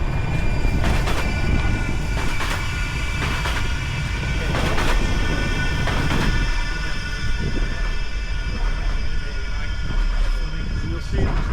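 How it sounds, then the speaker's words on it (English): A tram rolls along rails near Castlefield Viaduct in Manchester, a steady rumbling pass with metallic wheel and rail tones, fairly close and continuous, while people talk over it. "And there's a tram coming now as well."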